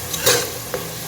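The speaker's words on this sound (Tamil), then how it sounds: "ஸோ வெங்காயத்தோட உப்பு போட்டிங்கன்னா சீக்கிரம் வெங்காயம் வந்துடும்." Onions with rock salt sauté in a pan for a fish curry, with a close, steady sizzle and the scrape of stirring. A soft clink is heard partway through.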